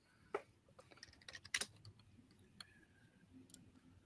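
Clicks of a computer keyboard as someone types a search, sparse taps and a few sharper keystrokes over a quiet room background, no talking.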